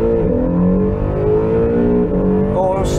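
A Honda NSX supercar launches hard from a standstill, its engine note climbing steadily through the gears at close range, with a faint high squeal near the end.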